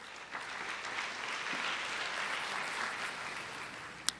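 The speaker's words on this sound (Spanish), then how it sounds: "Un fuerte aplauso, por favor." An audience applauding to welcome a speaker at a talk on insurance rights and duties, a soft, steady wash of clapping heard from some distance, with a single sharper clap near the end.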